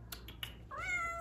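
A cat gives a single drawn-out meow with rising then falling pitch, close by in a quiet indoor room, after a few soft clicks, with no talking.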